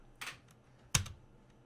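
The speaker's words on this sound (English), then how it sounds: "if I hit the space key" A computer keyboard's space key pressed while testing a Scratch dice game, giving two sharp, close clicks about three-quarters of a second apart in a quiet room.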